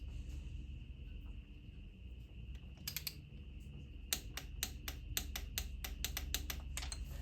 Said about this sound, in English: you could run these down with a ratchet by hand, tight, and then come back and click them with the ratchet